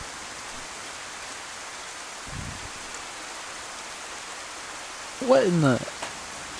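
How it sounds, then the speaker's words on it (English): Soft, steady rainfall in the video game DayZ hisses throughout, with a brief spoken exclamation near the end. "We are in. And it's raining."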